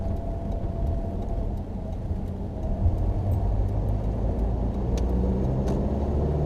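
A truck coasts in neutral toward a left-hand turn across a road, giving a steady low engine and road rumble that swells slightly midway, with no voices.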